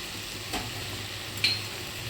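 Spice paste of turmeric, chilli powder, chilli paste and coriander powder for mutton kosha, frying with a low, even sizzle and two brief scraping stirs, no one speaking.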